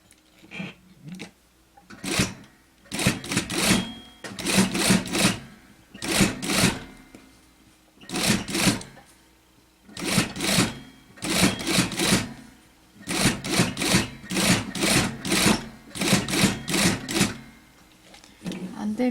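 A sewing machine stitches a shirring blouse with a shirt collar, running in repeated short bursts with brief pauses between them while an instructor talks.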